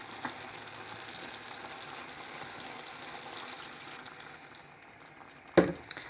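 Ratatouille provençale simmers quietly in the pan after water is added, giving a soft, steady bubbling hiss up close, then a sharp single knock near the end.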